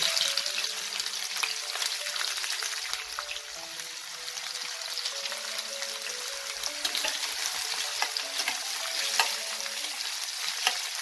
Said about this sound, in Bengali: পেঁয়াজটাকে আমি হালকা ব্রাউন করে ভেজে নেব